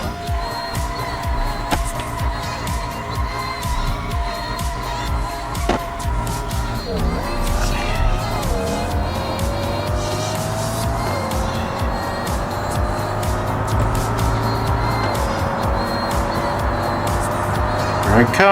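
A Nissan GTR in a driving game roars steadily throughout, its engine note climbing and shifting through gears with brief tire squeal, loud and continuous.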